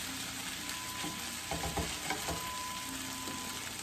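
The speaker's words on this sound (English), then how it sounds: "Now I'm just going to kind of stir it up a little." Sausage and hash browns frying in a skillet over medium-high heat, a dense continuous sizzle with a few soft stirring scrapes and knocks, close up and without talk.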